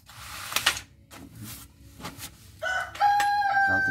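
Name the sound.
rooster crowing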